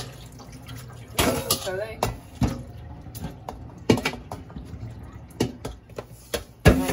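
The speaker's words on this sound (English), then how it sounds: "I'm gonna go ahead and rinse this out. Let that water go." Sea moss rinsed and the water drained off, with water splashing and dripping in bursts under intermittent talk and handling clatter.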